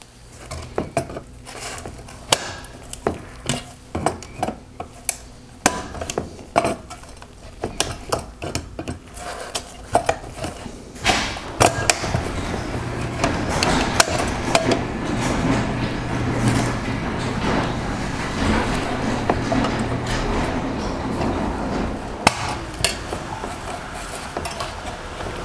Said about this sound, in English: I need to release the 3 clips holding the projector mounts in place.